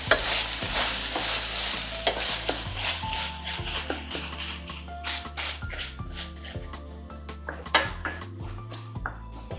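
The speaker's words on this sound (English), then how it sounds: "what we're doing is we're browning the meat" Ground beef for a beef ragu sizzles and browns in a pan while a utensil stirs and scrapes it, with steady frying hiss and repeated clinks against the pan, close and clear.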